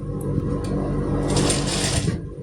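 A sewing machine runs in one continuous steady burst while stitching the fitting seam of a cotton kurti, close and fairly loud, with a rhythmic mechanical whir throughout.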